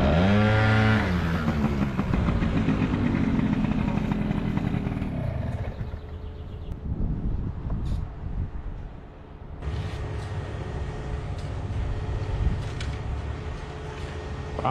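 Scooters on a road trip to Saaremaa island pull away, engines revving up loudly close by, then dropping to a steadier drone that fades into the distance.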